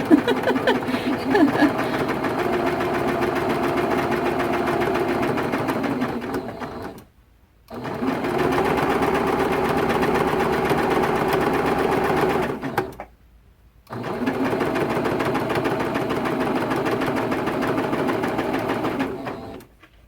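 A sewing machine stitches a seam on a T-shirt quilt top, running in a loud, steady whir that stops twice, briefly each time, before starting again.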